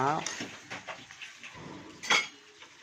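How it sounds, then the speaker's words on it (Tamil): Eggs are stirred into masala in a pan for an egg pirattal, with a run of light metallic clinks and scrapes of a spoon against the pan, some sharper than others, in a quiet kitchen. "நல்லா அந்த மசாலாவோட அந்த முட்டையை நல்லா அப்படியே பெரட்டி விட்டோம்"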